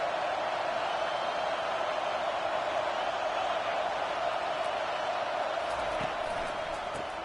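A stadium crowd roars steadily during an NCAA college football game against Auburn as the offense reaches the red zone, a dense, continuous wash of cheering noise.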